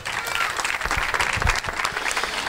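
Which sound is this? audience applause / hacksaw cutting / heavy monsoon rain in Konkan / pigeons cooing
audience applause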